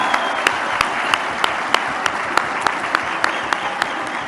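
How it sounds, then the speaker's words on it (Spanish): Steady audience applause for the president at a public food self-sufficiency event in Zinapécuaro, Michoacán, a dense wash of clapping with sharper individual claps standing out at a regular pace throughout. "hay que darle un aplauso al presidente"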